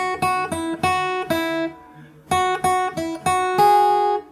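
Fingerstyle acoustic guitar picks out the melody of a song alone, a string of clear plucked notes in short phrases with a brief pause midway, close and bright.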